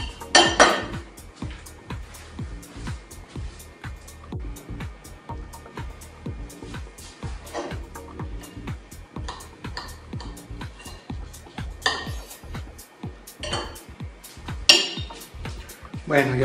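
Cutlery scraping and clinking against a plate while halving an air-fried picanha, with irregular close taps and a few louder metallic clacks scattered through quiet, no speech.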